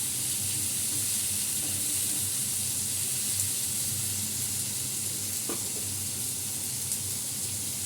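Pea lentil fritters (motor daler bora) frying in hot oil, giving a steady, continuous sizzle and hiss throughout with a few faint clicks, close and even in level.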